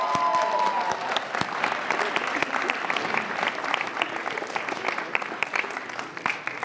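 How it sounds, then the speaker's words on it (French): Audience applause at a local college performing-arts show finale, a dense, steady wash of clapping from a crowd that carries on throughout, with faint voices mixed in. "Et une bonne main d'applaudissements pour tout le monde"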